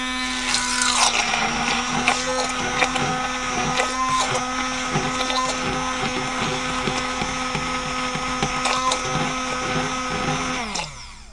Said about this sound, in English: Just mix it up in there real good, like that.